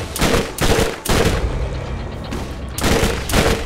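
Mortar fire in the Borderlands video game, heavy booming blasts arriving in clustered bursts, loud and close, with a short lull between volleys and no talking.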